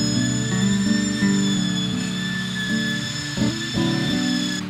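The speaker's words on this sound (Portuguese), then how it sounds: "Agora eu vou mexer bem a tinta usando a furadeira e o mexedor de tinta." A steady motorized whine with a low grinding rumble, a drill with a paddle mixer running continuously as it churns thick wall paint, shifting slightly in pitch over several seconds.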